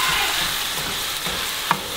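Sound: stirring and frying ground pork in a pan

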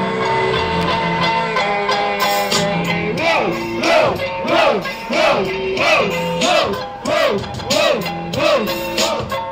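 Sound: rap battle crowd cheering

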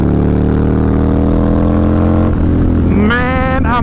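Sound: 2004 Harley-Davidson V-Rod motorcycle engine running

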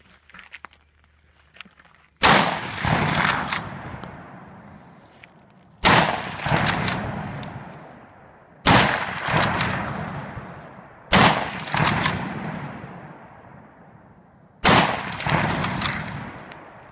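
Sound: M44 Russian Mosin Nagant rifle firing

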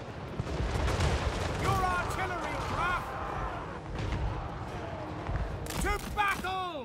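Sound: gunfire and artillery fire in Total War Warhammer 3 video game

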